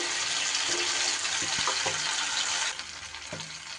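Ground spice paste for Bengali doi begun hisses and sizzles steadily in a hot pan, a broad frying crackle that drops slightly in level near the end, with a few faint utensil knocks.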